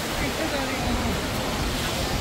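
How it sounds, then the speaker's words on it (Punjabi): Neel Ganga waterfall at Rishikesh pours in a steady, dense roar of rushing water, close and unbroken from start to finish. "ਇਹ ਜੀ ਝਰਨੇ ਇਹੋ ਜਿਹੇ ਨੇ"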